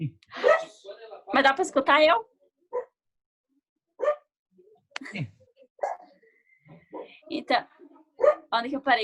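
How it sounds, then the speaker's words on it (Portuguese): Dog barking and howling in short yelping bursts, mixed in with a person talking close by, loud at the start and again near the end with quiet gaps between. "vocês estão escutando o cachorro gritando?"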